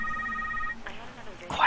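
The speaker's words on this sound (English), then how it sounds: "Oh, phone call." A phone rings in the video game The Secret World with a short electronic trilling tone that fades out. A voice speaks near the end over a brief noisy burst.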